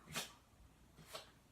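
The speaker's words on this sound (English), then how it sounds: "my dog is having a sneezing attack" A dog sneezing twice during a sneezing attack, two short sharp bursts about a second apart, close by and fairly quiet, with no talking over them.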